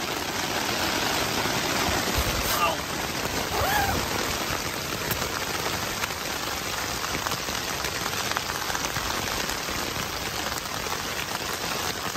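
Rain falls steadily during a storm in the Yukon wilderness on a solo canoe trip. It is an even, close hiss of drops pattering on surfaces throughout, with no talking.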